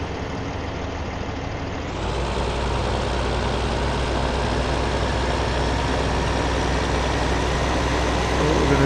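Tractor engine in the Farming Simulator 15 game on PS4, a steady low diesel drone that rises in loudness after a couple of seconds, then holds a constant, even rumble with no talking.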